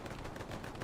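Dense gunfire rattles continuously in a Hell Let Loose competitive match on the Driel brick factory map, a blur of overlapping distant shots with no talking.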